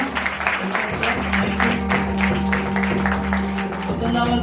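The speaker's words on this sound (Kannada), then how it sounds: "ನಾವೆಲ್ಲರೂ ಚಪ್ಪಾಳೆ ಹೊಡೆದು ದೇವರನ್ನು ಮಹತ್ವಪಡಿಸೋಣ" Congregation at a Christmas fest clapping together to praise God, steady rhythmic hand claps over a sustained musical drone, with voices mixed in.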